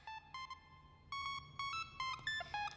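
A phone on a call rings in a sequence of short electronic melodic beeps, like an old Nokia-style ringtone, with bursts repeating over a few seconds, fairly clear and alone.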